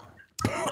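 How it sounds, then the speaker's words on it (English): A sudden burst of coughing breaks out after a quiet moment at a table where people are eating popcorn and drinking, close and fairly loud, with no words spoken over it. "Everybody's coughing,"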